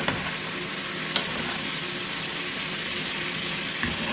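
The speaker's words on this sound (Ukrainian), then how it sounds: "Грудинка віддає свій жир" Pork belly sizzling and frying steadily in a pan as its fat renders, a constant close crackle with a couple of small pops.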